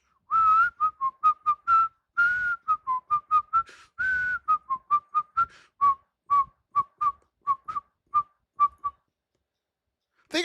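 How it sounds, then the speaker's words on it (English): Someone whistles a lively tune nearby, a clear run of many short, bright notes in quick rhythm that stops near the end, with no talking. "I was shocked by how many people that can't whistle."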